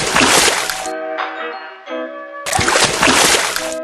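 Water splash effect from the Plants vs. Zombies video game, when an imitator is used on a lily pad: two bursts of loud, bright splashing separated by a short tonal musical gap, played close and clear with no talk.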